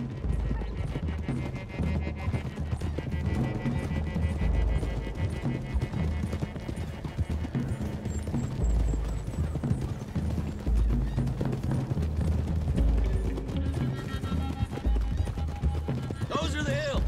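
Horses' hooves clip-clop steadily through a Red Dead Redemption ride, mixed under a loud, dense game soundtrack with talk heard throughout.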